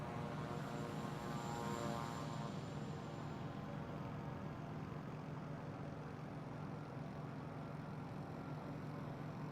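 A C-90 King Air turboprop in Microsoft Flight Simulator 2024 drones as a steady, loud engine roar with a faint whine that drops away early on, continuing unbroken and alone.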